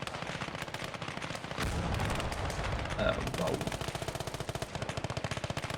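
Rapid machine-gun bursts and heavier cannon shots aimed at a Panzer in the war game Gate of Hell Ostfront, rattling in quick succession with a brief louder blast midway and a short exclamation over the firing.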